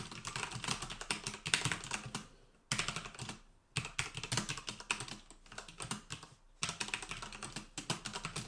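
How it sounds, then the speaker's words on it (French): Rapid typing on a HyperX Alloy Elite RGB mechanical keyboard with Cherry MX Red switches, close and crisp, in quick bursts of keystrokes separated by two short pauses, with no voices. "Concernant le bruit généré par le clavier, voilà ce que ça donne"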